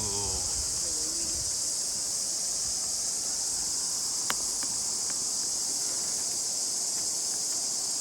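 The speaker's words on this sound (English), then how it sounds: "getting attacked by cicadas?" A dense, steady high-pitched cicada drone fills a North Island New Zealand forest near a swing bridge, constant and loud throughout, with a few faint footsteps or rustles underneath.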